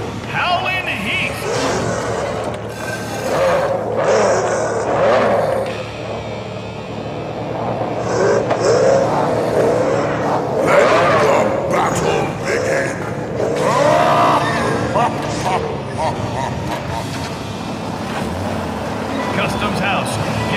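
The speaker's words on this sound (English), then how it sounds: "The roar of the engines, the countdown, and they're off." Toy race car engines roar and rev at the start of a race, rising and falling in waves beneath an announcer's continuous commentary.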